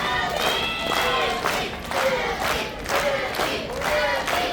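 A wrestling event crowd cheers and chants in loud rising waves, joined by scattered whoops and clapping, with voices mixed into the noise.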